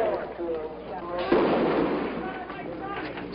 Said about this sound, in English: The gun battle in the middle of Broadway, the main business streets of Los Angeles.